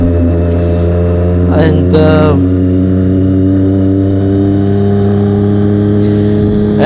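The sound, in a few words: Triumph Daytona 675R motorcycle accelerating and shifting gears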